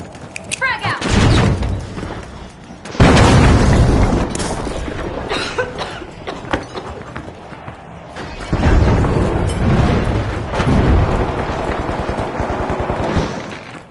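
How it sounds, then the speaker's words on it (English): A frag grenade goes off in a video game with a loud, booming burst, followed by more heavy blasts and gunfire-like crashes under ongoing voices and game noise. "Throwing a frag."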